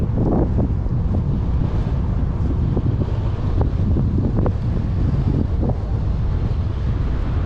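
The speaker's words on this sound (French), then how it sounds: "Vent de face, bien entendu." Strong headwind on a desert road near the Grand Canyon in Arizona buffets the microphone in a constant loud roar with gusty thumps, no voices present.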